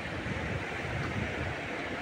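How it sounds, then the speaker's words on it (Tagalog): Sea waves around a small fishing boat, a steady broad wash of surf and wind noise filling the whole stretch with no voices. "Medyo hindi na malakas dito yung alon kumpara doon no"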